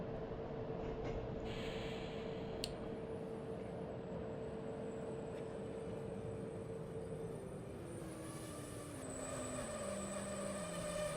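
Train in Train Simulator 2014 on the Hanover to Celle route braking to a stop: steady rumbling running noise with a whining brake tone that falls in pitch as the train slows, plus brief clicks and hisses.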